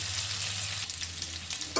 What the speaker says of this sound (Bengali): আলুটাকে বেশ নাড়াচাড়া করে একটু ভাজা ভাজা মতো করে নেব